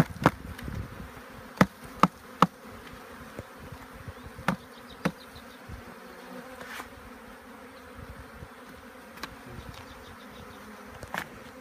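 Bees buzz in a steady, dense drone during a swarm removal and hive installation in Chester County, with scattered sharp knocks and taps from handling equipment over it and no talking.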